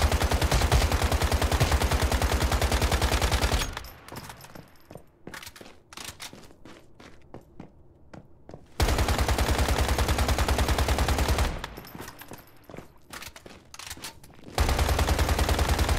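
Bursts of automatic gunfire in the survival shooter game Once Human, aimed at a fridge-like enemy's open freezer; two long, loud, steady rapid-fire streams separated by quieter stretches of scattered impacts and clatter.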